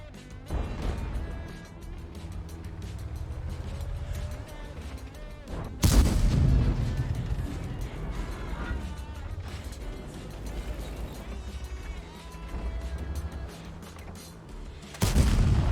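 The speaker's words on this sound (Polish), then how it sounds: "Ach, ta armata." Heavy cannon blasts boom out at intervals, two big shots standing out against a constant rumbling engine drone in a game battle.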